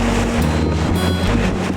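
Strong wind on a choppy seaside morning buffets the microphone with low rumbling gusts, a rough, constant roar with no voices.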